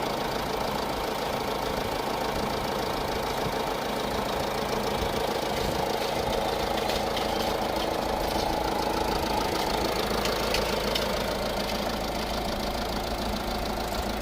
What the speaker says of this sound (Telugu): సో ఇంజిన్ సౌండ్ అయితే వినొచ్చండి మీరు.